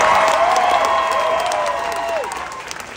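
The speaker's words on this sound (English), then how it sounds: "So round of applause to you." A live audience at a US tour show applauds loudly and continuously, with cheers and whoops rising over the dense clapping before it slowly thins out.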